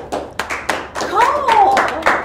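Hands clap in a few sharp, separate strikes, close and loud, interrupted by a person talking over them.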